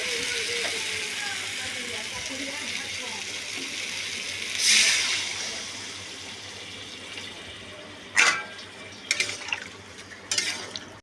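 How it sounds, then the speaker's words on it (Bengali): Water poured into a pan of prawn and vegetable curry, a steady sizzling hiss with a brief louder splash midway and a few sharp clinks toward the end. "এইবার আমি জলটা দিয়ে দেবো।"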